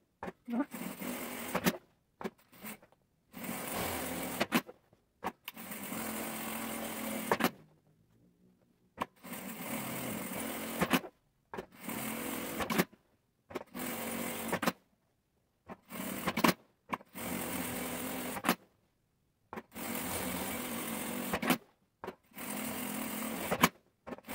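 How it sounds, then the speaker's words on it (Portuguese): A sewing machine stitching around a fabric pencil case in repeated fast, buzzing bursts of a few seconds each, separated by short pauses, close and fairly quiet. "E agora eu vou fazer a costura ao redor, onde é a marcação do molde."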